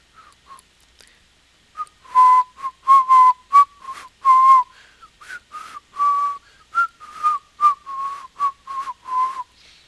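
A person whistles a series of short, clear notes in an uneven tune, close and loud, with brief breaks between the phrases and no talking.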